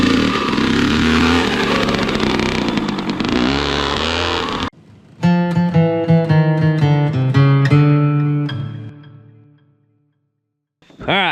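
Kawasaki KX dirt bike on a motocross track with a faulty stator, engine buzzing loudly then revving in rising bursts after a brief drop, close by, cutting out near the end.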